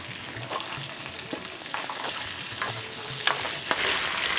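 Cluster beans and green beans fry in cold-pressed oil with a moderate crackling sizzle. Irregular scrapes and taps from tossing them in the pan punctuate the sound.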